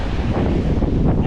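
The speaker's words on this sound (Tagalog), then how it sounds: "ang lakas talaga ng alon" Strong sea waves and gusting wind at the coast during rough monsoon weather, a loud, constant roaring wash with heavy wind buffeting on the microphone.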